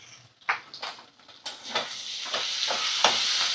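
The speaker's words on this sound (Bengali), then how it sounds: "মশলাগুলো ভালো করে কষিয়ে নেব।" Ginger-garlic paste, cumin paste and Kashmiri chili powder frying in a pan, with a steady hiss and sizzle. Spoon strokes and stirring scrapes rise through it at intervals, and the sizzle grows louder and fuller toward the end.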